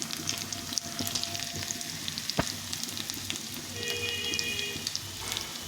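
Crushed, chopped garlic cloves with a little cumin fry in hot oil for vegetable khichuri, a soft steady crackling sizzle with scattered pops and occasional utensil clinks, close and moderately quiet, no talking.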